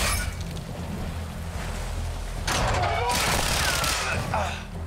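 Gunfire from the video game Call of Duty Modern Warfare 2022, a dense burst of rapid shots and battle noise that grows louder midway, with steady game ambience underneath and no talking.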